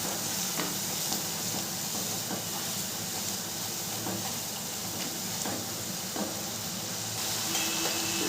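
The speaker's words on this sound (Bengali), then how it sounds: "এরপরে মশলাগুলোকে খুব ভালো করে আমি কষিয়ে নেব।" Spices with turmeric powder frying in a pan for an egg curry, a constant hissing sizzle with occasional soft stirring scrapes, close and even, no voices.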